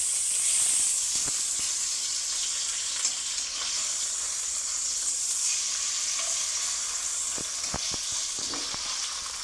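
Spicy fish grilling wrapped in banana leaf sizzles steadily and close by, a continuous bright hiss with occasional small pops and crackles and no voices.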